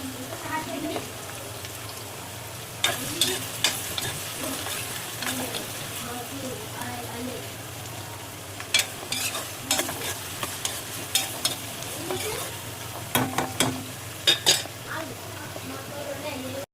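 Onions fry to a brown colour in a pot with a low, steady sizzle, broken by spoon clatters and stirring knocks against the metal. Talk is faint in the background.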